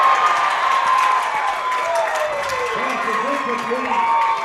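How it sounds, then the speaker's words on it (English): A crowd at a high school football game between the Spring Hill Broncos and Louisburg Wildcats roars and applauds in a steady wash, with a commentator talking over it throughout. "Crowd starts to get into it here in Lewisburg."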